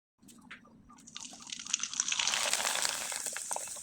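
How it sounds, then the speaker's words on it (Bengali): Rice flour pitha dropped into hot oil, a sudden sizzle that swells into a loud, steady bubbling hiss of frying, close up and with no talk. "আপনাদের তেলে ভেজে দেখিয়ে দেব।"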